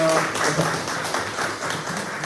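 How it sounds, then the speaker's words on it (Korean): Church congregation at a Bundang Woori Church prayer gathering claps briefly in a soft, even patter, moderately distant and fairly faint, with a little background voice. "정말 수고 많으셨다고 우리 좀 박수로 좀 격려해 주시면 좋겠어요"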